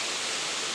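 Water pours over Kondilla Falls at reduced flow, a steady, close, hissing rush that stays even throughout with no other sounds.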